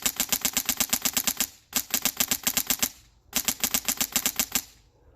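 An airsoft G&G replica fitted with a Polarstar Jack engine fires BBs indoors in three long, rapid full-auto bursts of sharp, loud clattering shots, with brief pauses between bursts.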